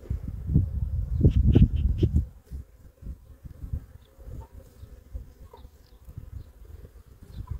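Honeybees buzz during a hive inspection in Ankara, the buzzing close and loud at first with bursts of knocking and handling noise, then thinning to a quieter hum.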